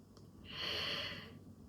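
Someone draws one slow, deep breath, a soft airy rush that swells and fades over about a second, alone and close in a quiet room.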